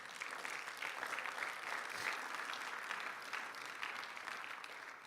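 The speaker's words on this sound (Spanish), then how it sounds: "Vamos a darle un aplauso." A church congregation applauds steadily for several seconds, a dense even wash of clapping with no talk over it.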